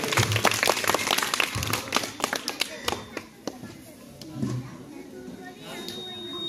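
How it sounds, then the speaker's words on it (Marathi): Students clap for a correct answer during a school quiz competition, a quick burst of hand claps in a room that fades into scattered claps and murmuring voices. "टाळ्या वाजवा. आम्ही टाळ्या वाजवल्या."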